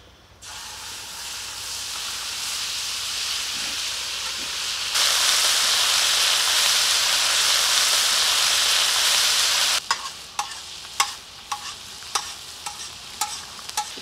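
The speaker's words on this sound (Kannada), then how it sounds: "ढाबा स्टाइल खैमा फ्राई ಮಾಡ್ಕೊಳ್ಳೋಣ" Dhaba style keema frying with ground masala, a continuous hiss and sizzle that swells louder partway through, then gives way to sharp scraping stirs against the pan.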